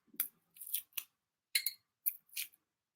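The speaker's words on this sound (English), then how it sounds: "I'm gonna have to cut this astragalus up myself" Astragalus root being cut into slices by hand, a sequence of six short, crisp snipping cuts at an irregular pace, close and quiet, separated by silence.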